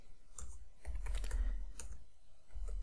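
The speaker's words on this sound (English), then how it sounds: "Open up any browser and then just type Kali" Quick, uneven clicking of keys on a computer keyboard, close and fairly quiet, with short pauses between bursts of typing.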